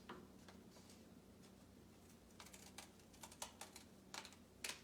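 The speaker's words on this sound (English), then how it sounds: "Now she's gonna take her scissors and cut that." Scissors cutting through folded paper to make book pages, heard as quiet, irregular snips that grow sharper and more frequent toward the end.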